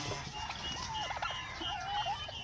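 Several broad-breasted black bronze turkeys call near the mic, warbling and gobbling in short rising and falling bursts over a busy farmyard background.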